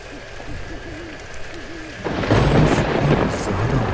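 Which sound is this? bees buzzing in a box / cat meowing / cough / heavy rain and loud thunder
heavy rain and loud thunder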